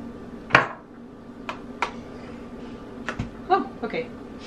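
Butter, white sugar and packed brown sugar are mixed by hand in a bowl, heard as scattered scraping clinks and knocks of a utensil against the bowl, under quiet intermittent speech.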